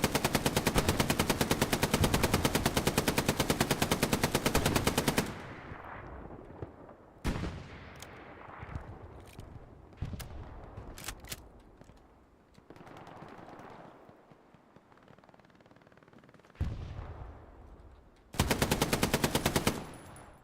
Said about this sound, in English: Sizelix making his MG go burr.